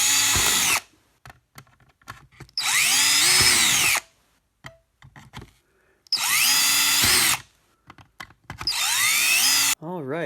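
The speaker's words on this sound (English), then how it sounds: "we're going to drill right through these 4 holes with the 1/8 inch bit again" A power drill with a 1/8 inch bit bores holes straight through a box held on a tray, running in four loud, steady high-pitched whining bursts of a second or more each, separated by quiet gaps with faint handling clicks.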